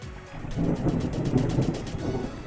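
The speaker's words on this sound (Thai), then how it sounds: "ครับเสียงฟ้าร้อง จากการที่ฝนตกนะครับ" Heavy rain pours steadily with a low, rumbling roll of thunder beneath it, a dense continuous wash of sound with no voices.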